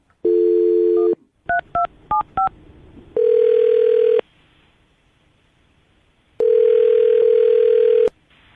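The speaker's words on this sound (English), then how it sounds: "I'm going to dial the phone number." A telephone dial tone sounds, then a quick series of keypad tones as a number is dialed, followed by two long ringback tones with a pause between them, all clear and close.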